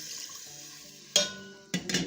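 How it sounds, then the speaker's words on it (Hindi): Water pours into a pot of meat for nalli nahari, a hissing, splashing rush that starts abruptly, pauses briefly, then surges again over a faint sizzle, close and fairly loud. "अब इसके अंदर हम डाल देंगे पानी, और पानी मैंने 6 गिलास लिया है।"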